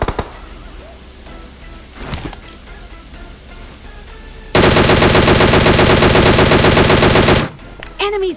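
Machine gun fire in a battle royale video game: a loud, continuous rapid-fire burst lasting about three seconds, preceded by quieter game ambience with a couple of distant shots and followed by a few trailing sounds.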